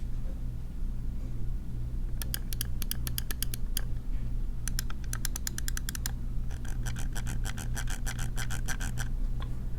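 Sharp clicks from the buttons and scroll wheel of a G-Wolves HSK gaming mouse arrive in quick bursts, some rapid runs of ticks, close-miked over a steady low hum with no speech.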